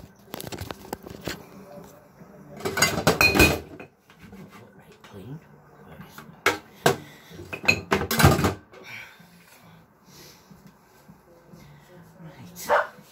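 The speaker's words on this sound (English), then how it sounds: "Two days on trot, you've seen me wash up." Pots and dishes clatter and clank in bursts during washing up at a kitchen sink, with splashes and scrapes between them, while a dog barks now and then nearby.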